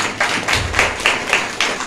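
Applause at a church Sunday service: a short burst of clapping heard as a series of sharp, evenly spaced claps, loud and fairly close, with no talking over it.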